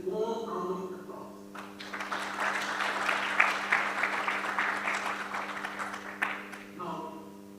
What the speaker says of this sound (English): welcome our great panel with warm round of applause